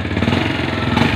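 A motorcycle engine runs steadily and loud after a starter repair, a continuous mid-pitched drone with a slight rise near the end, no voices over it.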